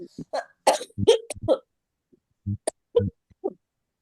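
A person with a three-week lingering cough coughs in repeated harsh bursts, with a short pause and then a few more coughs, close and loud against silence.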